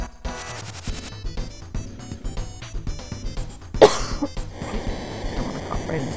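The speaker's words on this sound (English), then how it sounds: "I don't want to cough right into the microphone." A single sharp cough over Super Mario RPG game music and effects, loud and close to the microphone.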